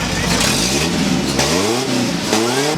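The engine of a 1993 Ford Ranger single cab revs up and down under repeated throttle blips, loud and close, with pitch sweeps rising and falling over a steady engine drone.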